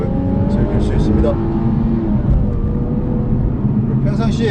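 An Infiniti Q60 with a 400-horsepower engine accelerating hard in manual mode, the engine note climbing through the gears in a strong continuous roar, with someone talking over it.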